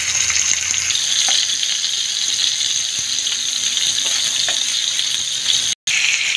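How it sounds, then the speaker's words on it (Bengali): Pointed gourd (potol) pieces fry in hot oil with a steady, bright sizzling hiss that holds at an even level, with a brief cut near the end. "সবগুলি পটল আমি এখানে ভেজে নেব।"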